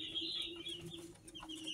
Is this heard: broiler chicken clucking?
yes